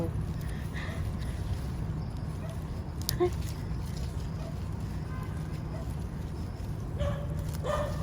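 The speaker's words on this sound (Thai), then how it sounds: "หมาเห่า" A dog barks and yips a few times at a distance, faint and brief, under a steady low outdoor rumble while someone talks during vegetable leaf picking on a hillside.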